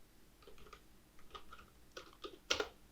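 Light typing on a computer keyboard in an Excel spreadsheet, a handful of quiet scattered key taps with a slightly louder final press, close and otherwise silent.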